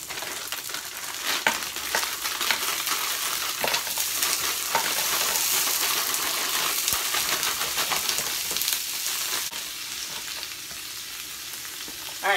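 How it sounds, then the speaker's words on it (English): Shrimp frying in a hot pan during meal prep, a loud, continuous crackling sizzle with stirring scrapes running throughout. "All right, I'm gonna add shrimp."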